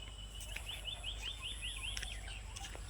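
At dusk near a canal, a bird gives a fast series of faint, thin, repeated chirps a short way off, over a low steady hum of evening insects and ambience.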